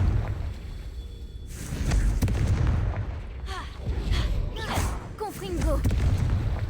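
Confringo fire spell blasts in a Harry Potter video game, several booming explosive bursts rolling over one another across the stretch, loud and close, with a voice speaking over parts of it.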